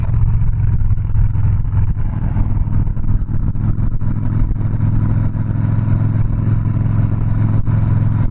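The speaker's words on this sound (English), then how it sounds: "It rumbles, you can feel it rumbling the entire bike." Harley-Davidson Softail Slim motorcycle with a 103ci engine gives a steady, loud, low rumble as it idles or cruises, a continuous throbbing drone that runs unbroken throughout, with no talking over it.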